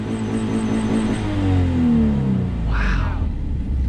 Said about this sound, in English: Did I hear a little turbo chip chirp action there?